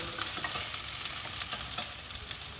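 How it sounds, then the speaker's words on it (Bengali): Ginger, garlic and green chilli masala sizzles steadily in hot oil for a fish kalia, a constant bright frying hiss with faint stirring scrapes and no voices. "এটারও আদা রসুন আর কাঁচা লঙ্কা গন্ধ না যাওয়া পর্যন্ত আমি এটা কষাতে থাকবো"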